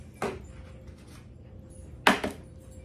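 Eggs are cracked one after another into a separate bowl, giving two sharp tapping cracks about two seconds apart against a quiet kitchen background.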